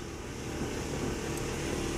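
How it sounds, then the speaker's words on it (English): The wheelchair lift ramp on a 1988 Ford Econoline van folds up, a steady close mechanical motor hum droning without a break for the short stretch. "Pull the ramp up,"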